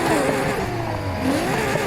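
A Lamborghini Huracan engine in Need for Speed Heat revs and roars continuously, its pitch rising and falling as it accelerates, with a synthetic game-like quality.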